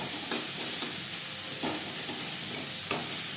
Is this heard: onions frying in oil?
yes